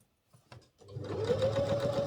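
A sewing machine stitches a garment seam with a 1 cm seam allowance, starting after a few soft handling knocks and then running as a steady, close, continuous motor whir with rapid needle rhythm.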